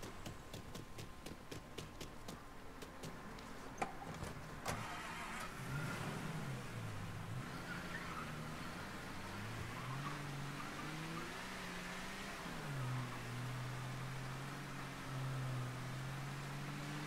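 Car engine in Mafia III starting and revving, a steady motor drone rising and falling in pitch through several throttle swells after some clicks and thumps at the start.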